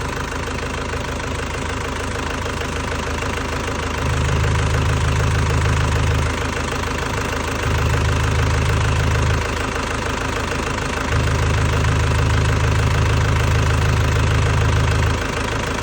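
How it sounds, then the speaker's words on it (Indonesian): A 1999 Isuzu Panther New HiGrade diesel engine idles steadily. Its low, even clatter runs throughout, and three stretches of deeper, louder rumble come and go without any talk. "Kondisi mesin stabil banget"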